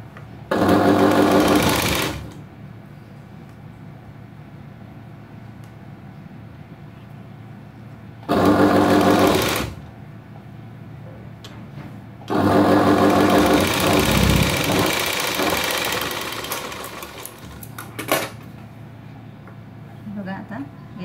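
A sewing machine stitching a princess-cut blouse runs in three loud bursts: two short runs and then a longer run that gradually fades. Quiet pauses separate the bursts, and someone talks during them.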